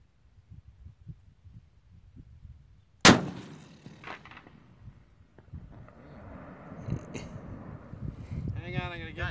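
A single Barrett M99 .50 BMG rifle shot fires outdoors as one sharp, very loud blast, followed by a lingering echo and wind noise. Voices are heard before and after.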